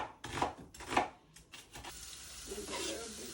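Minced beef hits hot oil in a pan and sizzles, with a few stirring scrapes and a soft steady frying hiss, quiet and close.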